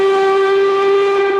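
The small narrow-gauge steam engine Peter Sam gives one long, loud, steady whistle, a pure sustained tone that fills the whole moment without any pause or voice.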